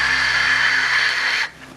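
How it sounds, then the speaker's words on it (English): Wind roars past a parachuting probe descending through Titan's atmosphere, a loud steady hiss that drops abruptly to a quieter hum near the end. "what you hear is mostly wind noise as the parachute's descending through the atmosphere"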